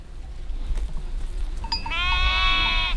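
Sheep and goat kids bleating at a Yörük herders' camp in the Taurus Mountains, a few short calls then a sustained harmonic bleat toward the end, fairly close over low rumbling background noise.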